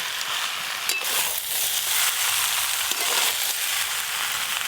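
Fried potatoes, jackfruit and prawns being stir-fried together in a pan, a continuous close sizzle with light scraping and stirring throughout, no talking.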